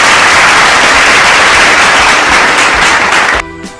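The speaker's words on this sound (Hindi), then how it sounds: "तालियां हो जाए।" Loud, dense clapping fills the space in a continuous roar, then cuts off abruptly near the end, leaving a quieter tail.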